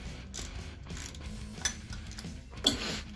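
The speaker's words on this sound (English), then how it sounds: "I'm going to use a ratchet wrench for this one" A 10mm ratchet wrench loosening a bolt during a coolant change on a Honda Gold Wing, giving a soft, close mechanical clicking and grinding with a couple of sharper metallic ticks, no talking.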